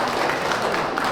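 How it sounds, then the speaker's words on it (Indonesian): An audience at a Chinese culture museum breaks into applause after a speech: dense, even clapping filling the short stretch without pause. "setelah pidato yang disambut tepuk tangan meriah"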